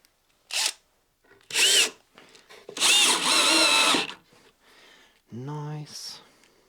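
A power screwdriver drives two screws while a Hellcorder recorder is being reassembled, with a few short close whirring bursts between pauses and people talking around them.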